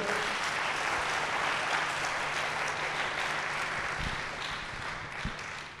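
A church congregation applauding together in a hall: sustained, dense clapping from many hands that holds steady throughout and tapers slightly at the end.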